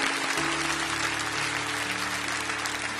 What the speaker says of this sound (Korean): 큰 박수로 축복합니다